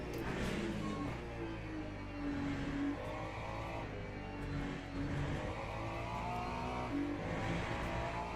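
A McLaren race car engine in the Le Mans Ultimate sim racing game drones continuously, its pitch rising and falling through gear changes over several seconds, loud and steady without talk.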